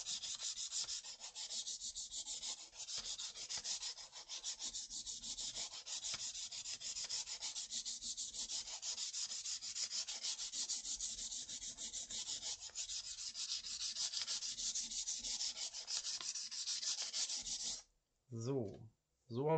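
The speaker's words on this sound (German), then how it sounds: "in so einem leichten Radius reinschleifen quasi." Hand sanding along the edge of a model car chassis to round it into a slight radius, a steady continuous rasping scrape lasting most of the stretch before stopping, close and fairly loud.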